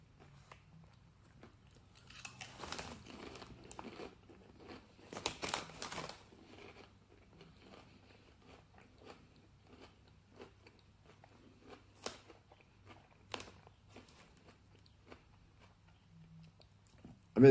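Crunchy Popchips Ridges smoky bacon chips are bitten and chewed close up, with sharp crisp crunches clustered early and scattered single snaps later against near silence.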